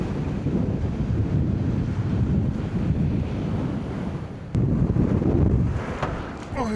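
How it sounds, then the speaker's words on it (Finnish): Strong wind buffets the microphone on the coast of Værøy in the Lofoten islands, a loud, continuous roar mixed with crashing surf, briefly dipping before surging again. "Ihan jonkun verran tuulee."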